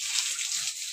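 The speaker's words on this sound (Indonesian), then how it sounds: "saya membersihkan kandang babi menggunakan air sabun" Soapy water splashed across a pig pen and its walls, a brief hissing wash of spray lasting about a second, close and moderately loud.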